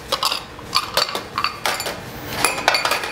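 Small crème brûlée ramekin moulds set out on a kitchen counter, giving a run of close, light ceramic clinks and knocks at an uneven pace.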